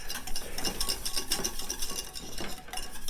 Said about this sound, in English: take a whisk and just smooth out that cream cheese some more